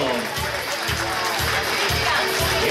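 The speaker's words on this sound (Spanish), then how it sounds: "La recibimos con un fuerte aplauso" Applause from the audience at the Premio Planeta Nuevo Milenio 2010 award ceremony at City Center Rosario, a steady dense wash of clapping with crowd noise filling the hall, continuous and fairly loud throughout.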